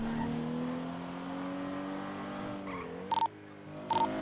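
A car in a video game swings through a U-turn and skids, its engine droning and shifting pitch while tires squeal, with short electronic beeps near the end.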